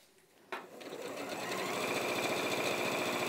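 An Elna 720 Pro sewing machine stitches fabric at a long stitch length, starting abruptly and building into a steady, close, fast whirring run that continues alone to the end.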